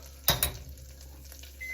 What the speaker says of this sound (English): Something's ready in the microwave.